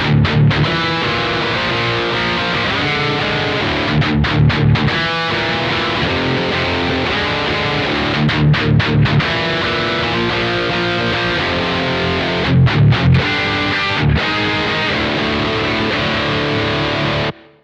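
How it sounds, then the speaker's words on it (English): Electric guitar through a BOSS GT-8 multi-effects unit set to lower gain, playing tight, aggressive distorted riffs, loud and continuous with sharp chugging stops, no voice. "I have less gain and it's way more tight and aggressive"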